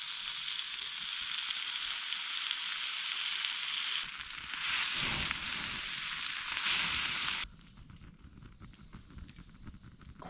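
Bacon frying over a campfire in snowy winter woods, a dense, steady sizzle that runs loud for most of the stretch, then drops to a quieter crackle near the end.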